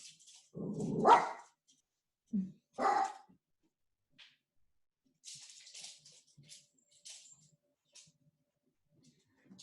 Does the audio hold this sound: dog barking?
yes